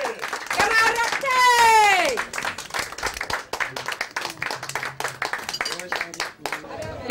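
Clapping rings out among a celebrating football crowd after Beerschot's cup triumph, mixed with shouting and voices talking over it, with a loud whistle-like squeal early on.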